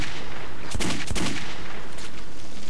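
Two quick, loud gunshots from the Metro 2033 video game crack close together over a steady, noisy background rumble, followed by a faint later report.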